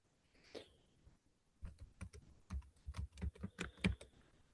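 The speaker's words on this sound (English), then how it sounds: "And then you can type another dash, and you can put anticipated completion date." Fingers type on a computer keyboard while building a website, a quiet single tap then a quick burst of rapid, close keystrokes with uneven rhythm.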